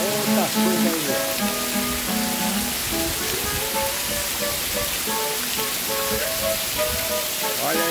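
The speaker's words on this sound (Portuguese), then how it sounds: "Muita chuva aí, ó." Heavy rain pours down on a farm in the countryside, a loud constant hiss that fills the scene, with tonal music or melodic sounds running over it throughout.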